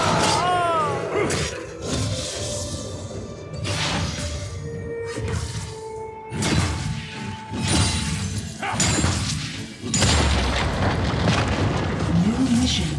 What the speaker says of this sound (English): Destroy the enemy turret.